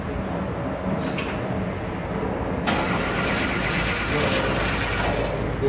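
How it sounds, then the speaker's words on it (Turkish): A car engine cranks briefly and catches, then settles into a steady, fairly loud idle close by. "Bak marşa basayım bir"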